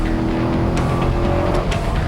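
A 2001 Corvette C5 Z06 braking hard on a race track, engine note dropping through sustained tones with brief tire chirps and squeals, loud and close throughout.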